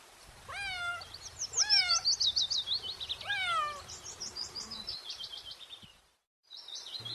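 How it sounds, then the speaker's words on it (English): A cat meows in a quick series of rising, repeated calls, clear and close, with bright chirpy tones continuing after the meows before a short silence. "C for cat."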